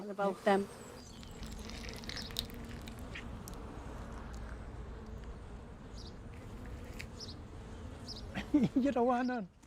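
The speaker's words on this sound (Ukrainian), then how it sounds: "Та бджола на мене напала, ось чому." Bees buzz around a beekeeper, a steady low hum with a few louder passes near the start, and a voice speaks briefly near the end.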